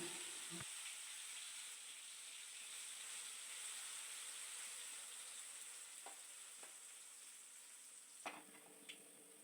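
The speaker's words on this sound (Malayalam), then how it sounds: "എണ്ണ ചൂടായി വരുമ്പോൾ മസാല തേച്ച് വെച്ചിരിക്കുന്ന സോയ പകുതി ഭാഗം ഇതിലേക്ക് ഇട്ട് കൊടുക്കാം." Masala-coated soya chunks go into hot oil and fry with a loud, continuous hissing sizzle, broken by a few faint clinks and a scrape near the end.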